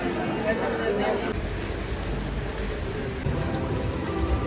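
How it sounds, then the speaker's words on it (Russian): Constant hiss of rain pattering on a surface, steady and moderately loud throughout, with no voices. "Дождь чуть-чуть стал меньше, немножко совсем."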